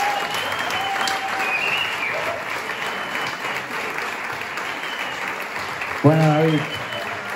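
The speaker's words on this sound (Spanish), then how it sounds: "un aplauso para Xavi y otro para David" Applause from a festival gala audience at a board game event in Barcelona, steady and dense crowd clapping throughout, with a voice speaking over it near the end.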